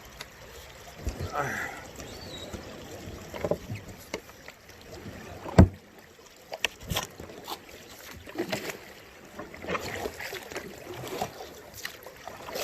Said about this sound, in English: Kind of paddling upstream just a second to get me spun around and then into the current.